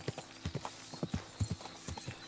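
Hooves of a walking horse in Kingdom Come Deliverance 2 thud in an even, unhurried rhythm, close by and alone.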